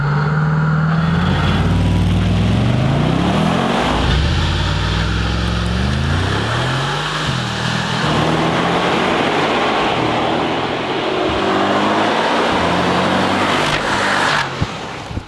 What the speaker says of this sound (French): Donc me voilà au volant de ce magnifique G63.